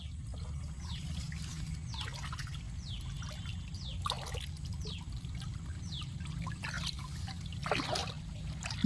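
Water rushes and gurgles steadily through a field irrigation channel, a continuous low turbulent flow with faint trickling splashes on top, heard close by.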